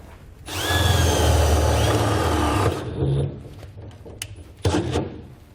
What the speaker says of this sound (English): we need to drill them out through the bed for our safety chain loops